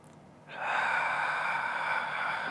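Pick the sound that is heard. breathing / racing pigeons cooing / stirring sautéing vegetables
breathing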